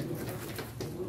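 Pigeons cooing softly nearby, repeated low throaty coos over a murmur of background noise.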